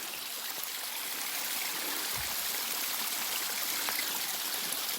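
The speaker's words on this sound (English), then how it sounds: "So how high does it have to be to qualify as a waterfall?" Small stream or low waterfall on a hiking trail, a steady hissing trickle of running water heard close and continuous, with a brief low thump partway through.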